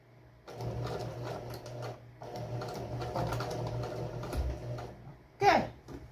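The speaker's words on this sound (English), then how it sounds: "And I'm gonna start stitching." A sewing machine hums steadily through two runs with a brief pause between them while a folded hem is stitched, followed by a short sharp noise near the end.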